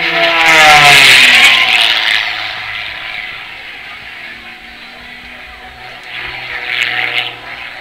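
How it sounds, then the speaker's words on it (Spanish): A fixed-wing aerobatic airplane at an air show in León, Mexico, built for plus or minus 10 g, roars loudly as its engine revs into a climb, then fades and swells again toward the end. "Quiero ya subir el avión para realizar este ascenso."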